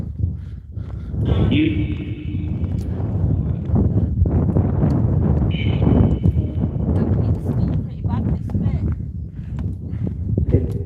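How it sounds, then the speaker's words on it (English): Wind blowing hard outdoors, with heavy low buffeting rumble on the microphone throughout and brief voices in the mix. "Don't think we'll be able to get out of this wind too much"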